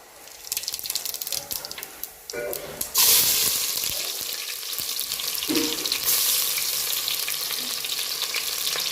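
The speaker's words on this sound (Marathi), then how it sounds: "इकडे आपण तांबडा रस्सा मारतोय" Kolhapuri tambda rassa, a red curry, sizzles and bubbles loudly in a pan while being stirred, with some clattering early on, then steady frying hiss throughout.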